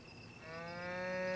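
A single cow in Zelda: Breath of the Wild gives one drawn-out moo that rises and grows louder, heard alone and close.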